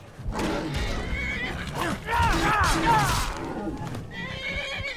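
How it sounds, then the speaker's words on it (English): A horse whinnies loudly with a rising and falling neigh in the video game Skyrim, accompanied by a faint background hum and soft hoof sounds. "Most aggressive horse in the game."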